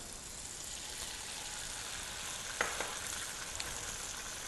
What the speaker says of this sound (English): This sizzle is important to prevent sticking.